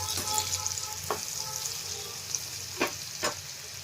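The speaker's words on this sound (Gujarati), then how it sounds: "તો સેજ એવા કાચા છે તો આપણે આને 2-3 મિનિટ હજી આમ જ હલાવતા જઈને પકાવી લેશું." Carrot and chili sambharo stirred in a pan over the heat, a steady sizzle running throughout with a few distinct spoon scrapes, close and continuous.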